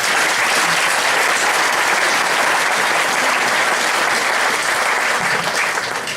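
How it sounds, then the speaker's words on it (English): Steady, full applause from a studio audience at a bird-knowledge quiz show, continuous dense clapping that fills the whole stretch without letting up, with no talk over it. "Round of applause there."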